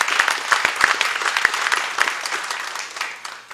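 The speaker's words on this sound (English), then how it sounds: "I think that deserves a round of applause from the audience." An audience applauds steadily, a dense wash of clapping that holds for a few seconds before easing off slightly at the end.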